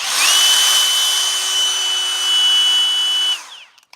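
A cordless rotary tool spinning a half-inch green Saburrtooth burr on a quarter-inch shaft at 25,000 RPM runs with a loud, steady high whine for about three seconds, then spins down to silence, with no one talking.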